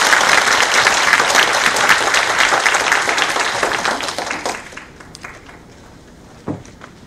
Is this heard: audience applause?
yes